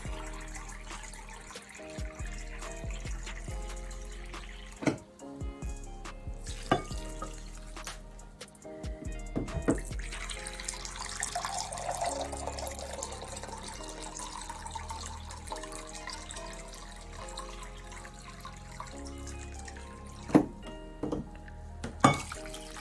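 Water runs steadily from a tap into a container, with occasional clinks of dishes and a rising fill tone.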